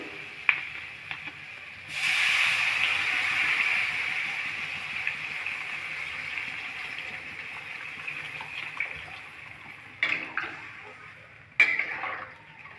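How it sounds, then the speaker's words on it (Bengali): Potatoes and peas are sautéed with spices in a pan for fish curry, giving soft scraping and sizzling strokes with a swell of frying hiss and a few sharp utensil clinks, fairly quiet. "আলু মটরশুঁটি মশলার সাথে আমরা দু তিন মিনিট হ্যাঁ দু তিন মিনিট মতন ভালোভাবে কষিয়ে নেব"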